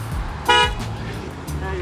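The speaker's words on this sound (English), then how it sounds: "while they're honking their horns" Car horns honk in a street in New Jersey, one loud short blast and a fainter second toot over a low traffic rumble, with someone talking nearby.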